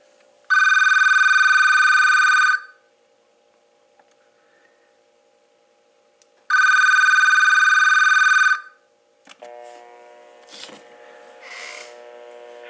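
An AT&T 1831 telephone rings for an incoming call: two loud, even electronic ring bursts of about two seconds each, separated by silence, followed by quieter handset noise and a faint tone.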